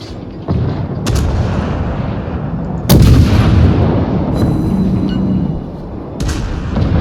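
Warship guns fire in the video game World of Warships, with several heavy booming shots, one especially loud blast followed by a long rumbling decay, close and forceful.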